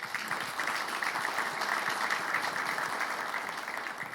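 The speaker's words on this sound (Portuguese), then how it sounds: "queria uma salva de palmas para o Danilo" An audience at a talk or debate applauds the speaker, with continuous, fairly soft clapping that stays steady throughout and has no talking over it.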